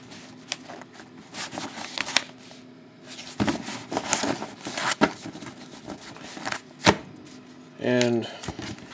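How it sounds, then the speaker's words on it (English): Stack of 2011 Timeless Treasures baseball trading cards shuffled and cut by hand, giving close, crisp papery flicks and snaps in quick bursts, with a brief fluttering riffle near the end and talk in the background. "One more shuffle."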